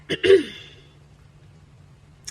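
A person clears their throat once, a short rough rasp up close, followed by quiet room noise.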